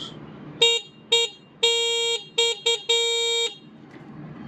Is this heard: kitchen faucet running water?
no